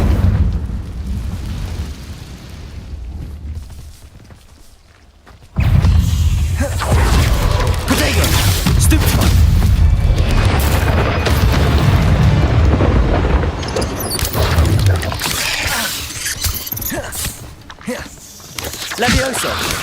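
A Confringo blasting spell detonating in Hogwarts Legacy, a sudden loud booming explosion followed by sustained rumbling crash and debris noise, with game sounds and a voice around it.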